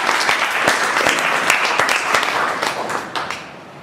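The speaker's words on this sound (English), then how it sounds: "So please give Sahil a big round of applause for this" A seated audience at a formal event breaks into dense, loud applause that holds steady for a few seconds and then tapers off, with no voices.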